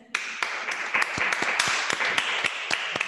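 Applause from a small audience at a gathering, a few seconds of scattered, distinct hand claps close by that quickly build into an uneven round.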